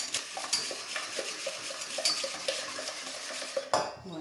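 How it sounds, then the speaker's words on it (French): Sugar being stirred into a mixture in a bowl for a no-bake Napoleon cake, a steady scraping and clinking of a utensil against the bowl in repeated strokes, close and fairly loud, with no talking. "on vient mettre les 100 g de sucre. On mélange également."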